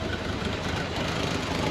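A rough-running car engine idles with a knock, the car also having a bad axle, differential and shock; a steady, dense rumble continues close and unbroken throughout.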